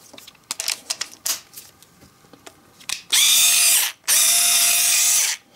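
A Zubr ViX 3.6 V cordless screwdriver fitted with Bosch IXO bits is run in two loud, steady whirring bursts of about a second each. A few sharp clicks and handling taps come just before them.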